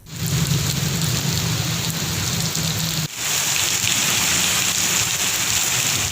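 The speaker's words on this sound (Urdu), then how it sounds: "کہیں پھلوار تو کہیں موسلادھار بارش نے ماہ سیام کو ہی ٹھنڈا کر دیا" Heavy monsoon rain pours in a dense, steady roar during a May thunderstorm in Pakistan, with a low rumble of thunder underneath that breaks off partway and gives way to continuous downpour.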